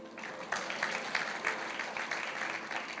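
A church congregation in Medan claps in a steady, moderately loud round of applause that lasts throughout, with some faint voices mixed in.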